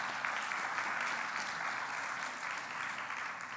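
Conference audience applauding students at a closing ceremony, a steady, dense wash of clapping filling the room for the whole stretch at an even level, with no voices over it.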